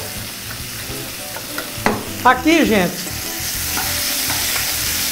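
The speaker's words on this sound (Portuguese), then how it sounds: "vamos dar uma pequena fritura na carne só." Beef rib meat sizzles and fries in a pot while being stirred, with scraping utensil sounds over a constant frying hiss; a voice speaks briefly.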